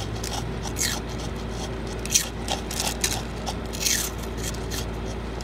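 Loud, crisp crunches of crunchy Taco Bell tacos being eaten repeat irregularly close up, with sharper bites standing out over a steady background hum.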